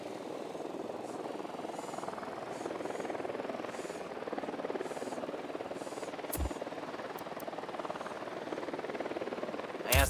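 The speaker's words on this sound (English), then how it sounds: "Drone is airborne." A recon drone flies in a video game, giving a steady, moderately loud whirring rotor drone that holds for about ten seconds, with a couple of brief sharp clicks near the middle and a louder burst right at the end.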